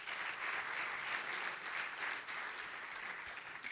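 A church congregation claps together in steady, sustained applause, a dense, even wash of many hands heard from within the room.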